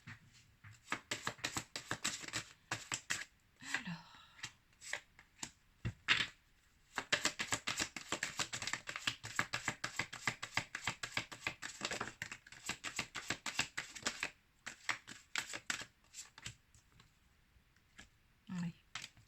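Oracle cards for energy release are shuffled by hand in a steady run of quick, crisp riffling clicks and flutters, close and fairly loud, broken by a few brief pauses, with no talk over them.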